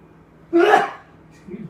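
A single sharp, breathy sneeze bursts out nearby, followed by a brief quiet and a soft murmur.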